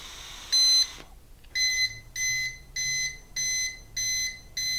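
A cheap breathalyzer beeps one long tone followed by five shorter evenly spaced beeps, loud and close, with no talking.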